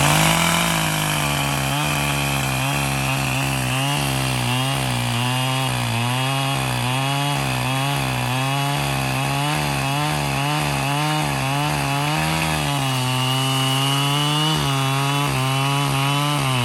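A large Echo chainsaw runs hard and cuts through wood, its steady roaring drone wavering as the engine loads and revs, loud and close throughout with no voices.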